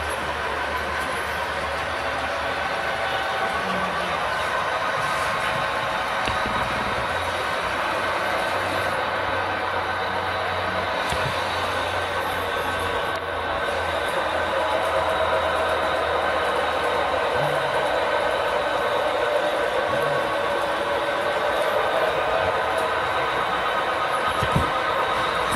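A short model train on the GG&N layout runs along its track with a continuous, even rolling hum and rumble, fairly close and unbroken for the whole stretch.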